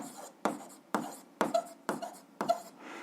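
A pen writes an equation by hand on paper, six short scratchy strokes spaced about half a second apart, close and quiet with no talk.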